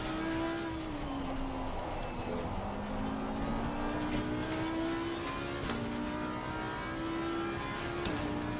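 A McLaren 720 race car engine in Assetto Corsa Competizione, a steady droning engine note that wavers in pitch while cruising, with faint sharp ticks near the end.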